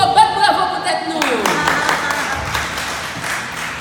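Audience clapping at a Haitian community gathering in New York swells into steady, broad applause that carries on to the end, with voices mixed in.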